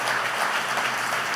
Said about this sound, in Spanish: dile un aplauso a Jesucristo